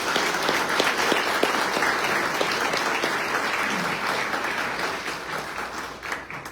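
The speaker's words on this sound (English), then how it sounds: "Now let's give them a big round of applause real quick." An audience at a candidate forum applauds, a dense, sustained round of clapping that holds steady and then tapers off toward the end.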